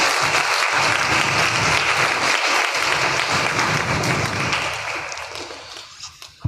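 A congregation at a Christian prayer meeting breaks into sustained applause, a full, close crowd of clapping that holds strong for several seconds and then gradually thins and fades out.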